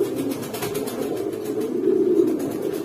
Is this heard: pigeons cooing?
yes